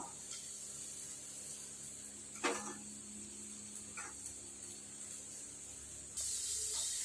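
Dried chillies sizzle in hot oil while being sautéed for a soya curry, a steady hissing fry with a brief louder crackle partway through and a harsher burst near the end.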